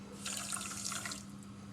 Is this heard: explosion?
no